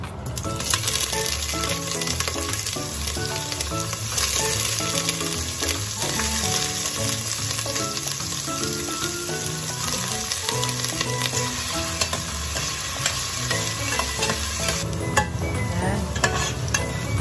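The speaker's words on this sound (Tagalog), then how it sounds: "ipiprito muna natin ating mga gulay. Okay. Unahin natin ang patatas." Sliced potatoes fry in a thin pan with a steady, close sizzle, punctuated by repeated scraping and stirring clinks of a utensil throughout.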